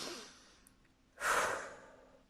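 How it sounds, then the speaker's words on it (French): A slow, audible inhale is followed by a strong, forceful exhale during a calming sophrology breathing exercise, heard close and alone with no talk. "vous allez inspirer et souffler fortement pour vous dynamiser"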